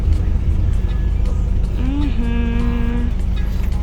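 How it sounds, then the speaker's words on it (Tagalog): Busy road traffic on Siargao island, a steady near rumble of many vehicles passing, with a rising engine whine and a short horn-like tone partway through, and a voice faintly under the noise. "Ay, daming mga sasakyan."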